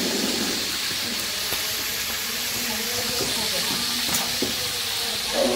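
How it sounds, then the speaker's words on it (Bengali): Roast chicken pieces fry in hot oil during a rooftop family picnic, a dense, continuous sizzle and hiss up close, with occasional faint clinks of utensils against the pan. "এই যে রোস্টগুলা ভাজার জন্য তেলে দিয়ে দিচ্ছে।"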